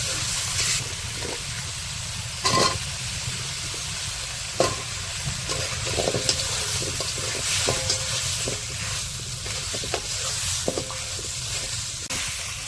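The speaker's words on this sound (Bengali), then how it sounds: "মাংসটা তো কিছুক্ষণ কষাই নিচ্ছে" Meat sizzling and frying in a pan for a village-style curry, with a spoon repeatedly scraping and stirring through it in steady, close strokes under a constant loud hiss.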